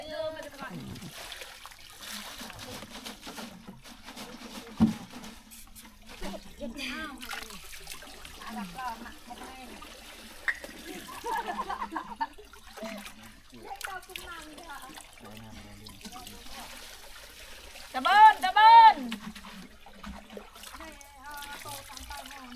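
Intermittent water splashes and trickles at a village well where Mangkong tribal villagers draw and carry water, heard close by among people talking nearby.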